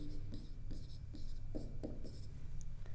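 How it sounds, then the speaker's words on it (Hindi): Chalk scratching across a classroom board in short strokes and taps while an example is written, close and fairly faint over a steady low room hum. "एग्जांपल लिखता हूं"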